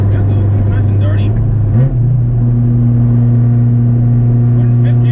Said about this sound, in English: Can you hear that? This thing's got a Jay's Racing exhaust